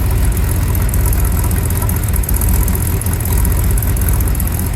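A squarebody pickup truck idles through its old exhaust pipe, a steady, loud low rumble with an even pulse and no change in speed, up close and alone.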